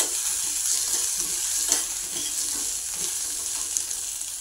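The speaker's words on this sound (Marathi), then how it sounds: "आता फणसाची कापं घालून घेऊया आपण याच्यामध्ये।" Jackfruit slices fry in melted ghee in a pan during village cooking, giving a steady, close sizzle with soft clicks and scrapes of stirring throughout.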